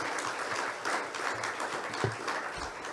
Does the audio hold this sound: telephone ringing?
no